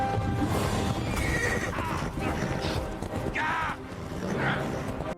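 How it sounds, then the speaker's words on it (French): A horse whinnies loudly twice over rapid galloping hoofbeats, with dramatic background sound throughout. "La princesse Luna, déçue des actions de Georges, s'enfuit alors à cheval"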